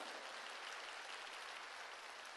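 A church congregation claps for God during a worship service, a dense, even roar of many hands clapping hard and continuously, heard from a distance without any voices on top.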